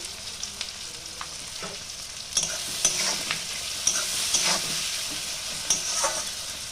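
Steady sizzling of spices and tomato frying in a pan, with scattered scrapes and clicks of stirring over the constant hiss.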